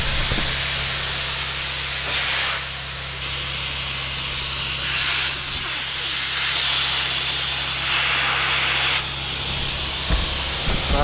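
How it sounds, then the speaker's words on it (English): Compressed air from an air compressor hisses steadily as it blows through a line on a vehicle at first start, a loud continuous rush that swells and eases in a few stages over about eleven seconds. "Just let that keep on blowing through until the air compressor runs out of air."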